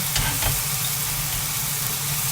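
Carrots and cream cook in a pan while being stirred, giving a steady, close, continuous sizzle with a low rumbling hum beneath and a couple of faint scrapes early on.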